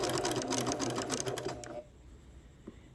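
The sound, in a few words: sewing machine edge stitching fabric ornament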